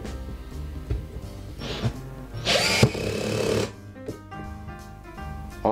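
An IKEA FIXA cordless lithium-ion screwdriver drill runs at torque setting 15, whirring with a motor hum in several bursts, with ratcheting clutch clicks and brief pauses between runs.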